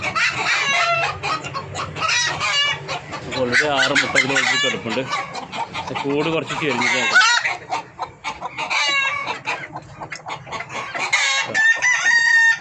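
Spotted and Kapiri parent-stock hens cluck and crow from a tilted coop holding eggs, their calls steady and close beneath someone talking throughout.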